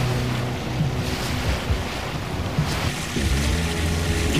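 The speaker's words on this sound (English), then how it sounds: "The swells are about maybe a meter. The wind's from the west, pure west." Steady wash of ocean swells about a meter high with a westerly wind rushing past a sailboat reefed in the main, continuous and fairly loud with no talking.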